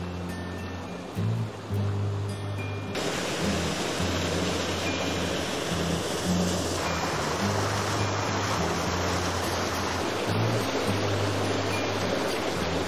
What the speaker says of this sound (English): There's so many waterfalls and water features.